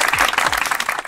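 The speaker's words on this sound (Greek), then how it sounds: "πάμε ένα χειροκρότημα." Brief burst of audience applause at a Marvel trivia quiz with fans in Thessaloniki, a steady patter of clapping filling the whole moment.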